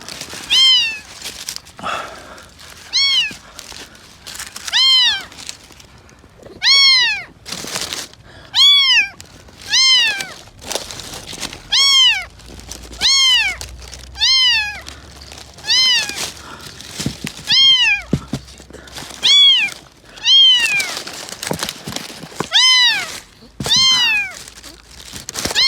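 A young kitten meows over and over in high, clear, insistent cries, loud and close. A short pause separates each cry, and faint human voices come in between.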